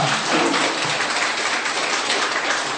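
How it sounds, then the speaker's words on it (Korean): Sustained applause from an audience at a Buddhist Dharma talk given by a monk in Changwon, a dense, steady wash of clapping filling the hall with no voices over it. "다시 한 번 더 큰 박수 부탁드립니다."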